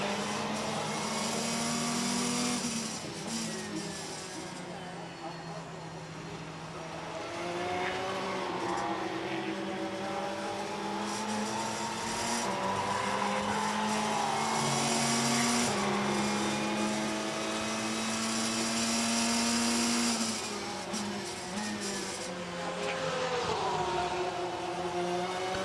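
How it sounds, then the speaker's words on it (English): Onboard engine of the Scuderia Praha Ferrari GT race car lapping Brno during a 24-hour endurance race, a loud continuous wail rising and falling with gear shifts and throttle lifts, close and alone throughout. "enjoy the sights and sounds of the Scuderia Praha Ferrari"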